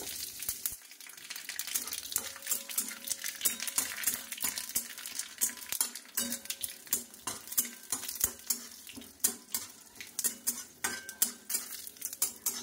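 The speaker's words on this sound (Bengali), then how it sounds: "এখানে নিয়ে নিয়েছি শুকনো লঙ্কা, তেজপাতা, মৌরি, সর্ষে। তেলের উপর দিয়ে দিলাম।" Dry chillies, bay leaf, fennel and mustard seeds sizzle in hot oil in a pan, with a continuous close crackle broken by frequent metallic clinks and scrapes of a stirring utensil.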